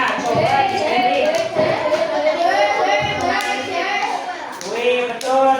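Primary school children in a fifth-grade classroom clap for a classmate, a patter of hands mixed with excited children's voices chattering and chanting over it.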